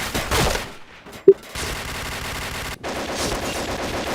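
Rapid gunfire from a shooting video game, dense overlapping bursts of shots filling most of the span, broken by a brief quiet gap and one sharp isolated report, with no talking.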